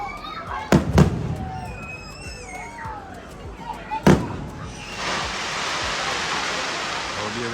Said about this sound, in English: And now the fireworks starts.